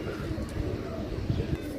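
Low, soft cooing of a pigeon for sale, repeated in a steady murmuring rhythm close by, with faint background noise and no clear talk.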